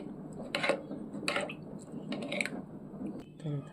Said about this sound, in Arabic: وابتدي بقى اقلب